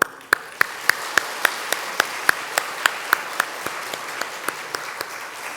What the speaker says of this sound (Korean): 저희가 환영하며 또 격려의 박수 하겠습니다